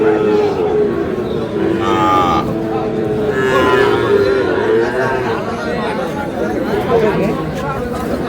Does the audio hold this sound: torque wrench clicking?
no